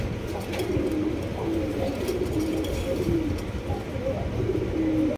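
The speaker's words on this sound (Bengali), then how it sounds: "এটা মাদি কবুতর।" Pigeons coo repeatedly at a pigeon market, soft throaty rolling calls overlapping in an uneven rhythm against a busy background murmur, close by and with no one speaking.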